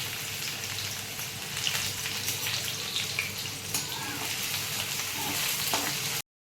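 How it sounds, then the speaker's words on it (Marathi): Chopped onion sizzling as it drops into hot oil in a wok, a steady dense crackle and hiss close up, running continuously with no speech. "कढईत तेल झालेलं आहे गरम आणि आता कांदा टाकायचा आहे"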